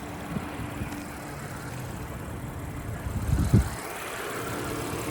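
A 2014 Audi A7 with a supercharged 3.0-litre V6 idles in a smooth, steady low rumble, with a faint knock and swell partway through and no talking.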